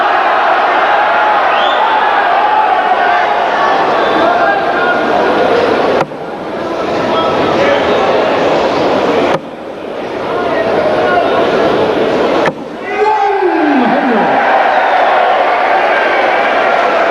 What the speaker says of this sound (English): Oh, crowd, you can hear.